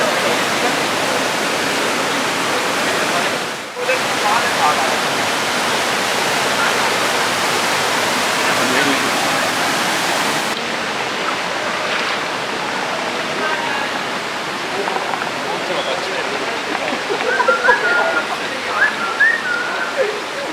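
Noori Waterfall in Haripur, Khyber Pakhtunkhwa, gives a constant loud broadband rush of falling water close by, with faint voices around it.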